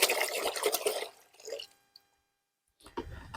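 Water poured into a Minelab gold pan for a placer gold sampling test on a mining claim, a close splashing rush that fades to silence, then resumes briefly.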